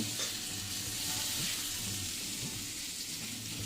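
Onions and bay leaf fry in a pan with a steady, moderate sizzle and occasional soft stirring scrapes, heard alone without talk.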